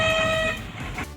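A vehicle's horn blares loud and steady for about half a second, then cuts off and leaves a low background rumble.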